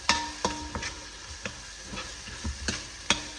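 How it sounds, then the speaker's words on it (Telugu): Curry frying in oil in a home kitchen, with irregular clinks and scrapes of a spoon stirring against the pan over a soft, steady sizzle; close and moderately quiet, no talking. "5 మినిట్స్ అలా ఫ్రై చేసుకుందాము."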